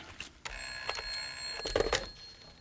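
An old-style telephone bell rings in short repeated bursts in a quiet room setting of a radio drama, fairly close and clear, with no voices over it.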